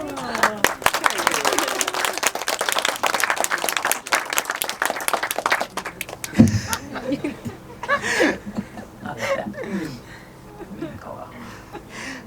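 Audience applause for panelist Trinetra at a panel discussion: dense clapping in the first half, tapering into chuckles, scattered laughter and murmurs with a cough-like thump midway.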